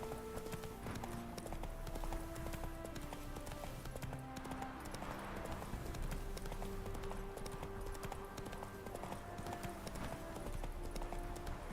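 A horse gallops in The Witcher 3 video game, its steady rhythmic clip-clop of hooves running continuously over game ambience and music, with no talking.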